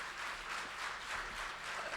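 Audience applause at a theatrical book presentation, a steady dense patter of many hands clapping at moderate distance, fairly quiet, with no voices over it.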